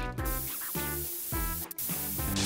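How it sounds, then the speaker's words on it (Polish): A spray paint can hisses in an animated scene where prison cells are being redone, a steady spray running under music with a brief sharper burst near the end. "Farba w sprayu?"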